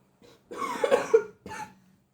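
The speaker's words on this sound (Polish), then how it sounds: "trochę kaszel duży, więc czasami będę kaszlał" A short cough, then a louder, rougher coughing fit and one final cough, all close by and dry.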